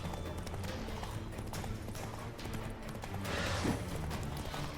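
Horse hooves galloping at speed in The Witcher 3, a steady drumming of clip-clop under busy game ambience, growing louder near the end.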